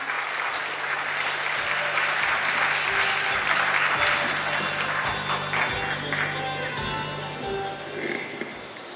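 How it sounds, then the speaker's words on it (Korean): Audience applause at a Korean political rally at City Hall, a dense, steady wash of many hands clapping that holds for the full stretch, with faint voices mixed in underneath. "힘찬 박수 부탁드립니다."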